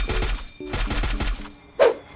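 Rapid bursts of gunfire in the video game Free Fire crack out in quick succession, then a single louder shot or blast near the end.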